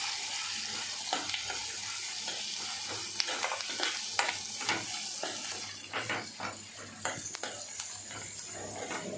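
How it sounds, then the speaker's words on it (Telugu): Turmeric being stirred into a sizzling curry of tamarind leaves and chana dal in a pan, with a steady frying hiss and repeated scraping clicks from the stirring spoon. "వేసుకొని మంచిగా కలుపుకోవాలి."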